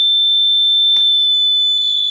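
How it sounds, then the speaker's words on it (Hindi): A temperature-sensing circuit's buzzer sounds a loud, steady high-pitched electronic tone that holds for about two seconds, with a brief click partway through. "बजर ऑन होता था"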